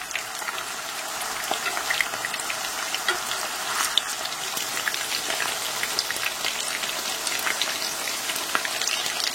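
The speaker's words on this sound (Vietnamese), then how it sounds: "Dầu nóng già thì mình cho đậu vào chiên với lửa vừa." Meat-stuffed tofu pieces, meat side down, frying in hot oil in a pan over medium heat, giving a steady, dense sizzle and crackle close up with no voices.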